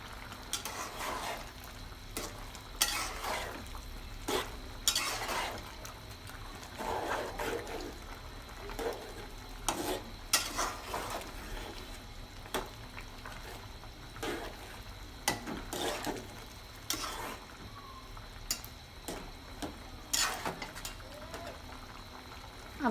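A pan of fish curry with ash gourd is stirred as it simmers, with faint scattered scraping clicks over a low steady bubbling hiss.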